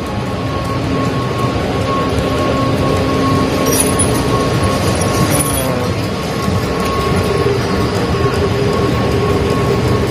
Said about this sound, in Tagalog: Papasok tayo sa istasyon ng tren.